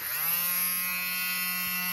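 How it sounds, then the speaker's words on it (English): An electric fabric defuzzer buzzes steadily close by as it shaves a garment, a constant high motor whine with no pauses. "So I've got a defuzzer little thing that my neighbour gave me. So we're going to shave it."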